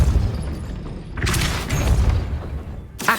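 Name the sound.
Depulso spell cast in Hogwarts Legacy video game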